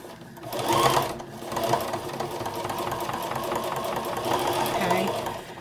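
A sewing machine stitches back over the hanger loop of a Christmas stocking, its steady mechanical whir running continuously at close range with a slight louder burst near the start.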